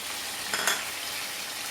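Onion and tomato fry in hot oil in a kadhai, giving a steady soft sizzle with a brief louder crackle near the middle; no voices.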